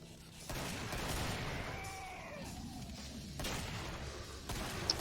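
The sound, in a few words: grenade combo explosions in Killing Floor video game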